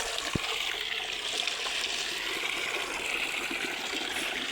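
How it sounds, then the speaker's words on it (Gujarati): Steady rushing water runs continuously from a tap, a broad hiss, fairly close and unbroken throughout. "ચકલી ચાલુ કરીએ"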